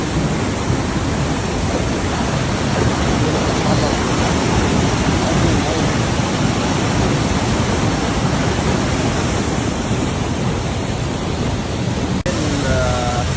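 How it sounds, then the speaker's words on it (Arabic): A waterfall pours down steadily in an outdoor valley with restaurants and seating areas below, a loud, continuous broadband rush of falling water filling the whole clip, with no voices standing out. "الشلال بتنزل مي"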